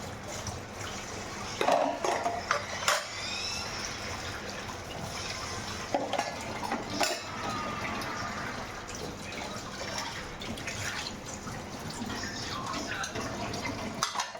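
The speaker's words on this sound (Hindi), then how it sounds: "तो यहाँ पर मैं सारे बर्तनों को वॉश कर लूँगी" Dishes and utensils being washed in a kitchen sink, with running tap water and clinks of pots and pans at several points, steady and close throughout, with no talking.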